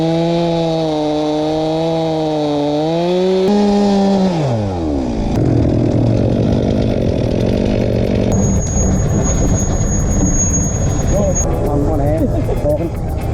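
A chainsaw cutting through a log on a four-wheel-drive track at Landcruiser Park, the engine revving up and bogging down loudly as it bites, with other engine noise and a high whine mixed in.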